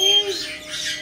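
A pet bird gives one short, close squawk outdoors during a recess, with a person calling out over it.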